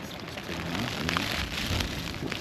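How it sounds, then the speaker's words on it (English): Rain patters continuously on a Hilleberg Soulo tent close by, a dense, even drumming with no pauses. "Rain started, I don't know if you can hear it."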